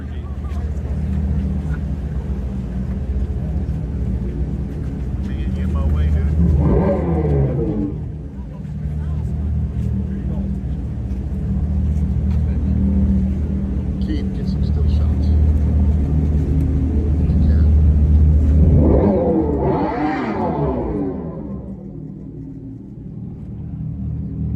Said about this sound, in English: They're going to rev it, and you're going to hear the engine noise